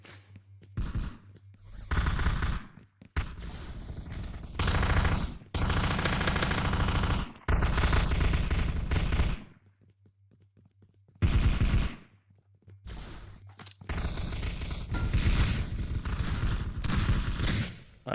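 Gunfire in the s&box game: long, loud, close automatic bursts separated by short silences, with faint footsteps in between.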